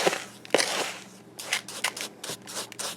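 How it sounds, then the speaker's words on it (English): Epsom salt being mashed and stirred together with fragrance oil, polysorbate 80 and mica, giving repeated gritty crunching and scraping strokes at close range, with no talk. "But you just keep smashing and smushing the oil into the Epsom salt, the fragrance oil, the polysorbate 80, and the mica."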